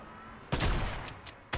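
Sharp in-game gunshots in Fortnite, a few loud single cracks spaced apart with short pauses between them.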